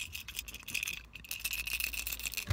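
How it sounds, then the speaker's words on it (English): Rattling of a roughly 100 gram jerkbait fishing lure, a dense, steady clicking hiss of small internal beads shaken continuously at close range for a couple of seconds, with no talk. "So you can hear there is a bit of rattling there as well."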